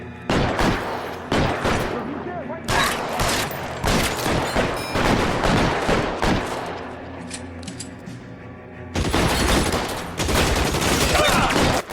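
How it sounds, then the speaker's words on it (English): A Thompson submachine gun fires in the video game L.A. Noire, loud sustained bursts of automatic fire broken by short pauses, with a voice talking briefly between bursts. "ça tire à la Thompson là"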